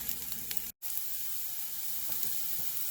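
Onion and bitter gourd fry in a pan with a steady, close hiss of sizzling oil that runs throughout, broken once by a very short dropout.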